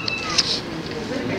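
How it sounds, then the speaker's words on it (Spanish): A cat meows a few times, short and fairly close, during a wedding gathering, with voices murmuring in the background. "se escucha el gato, pero no lo quiero"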